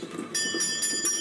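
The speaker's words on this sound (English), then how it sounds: "That was a doorbell." A shop doorbell chimes as a door opens, a short bright ringing tone that holds for about a second over a faint background clatter.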